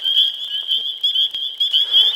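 Frogs in a Michigan spring wetland calling loudly and close, a continuous high, buzzing trill with pulsing rhythm that swells and dips in waves, with no voices.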